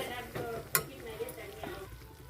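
Chili powder frying in oil for lemon pickle makes a quiet, continuous sizzle, broken by light stirring scrapes and a sharp metallic clink of a ladle against the pan.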